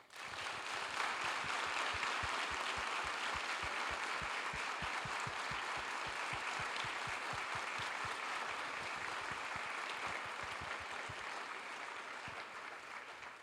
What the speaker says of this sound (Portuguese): eu gostaria de uma calorosa salva de palmas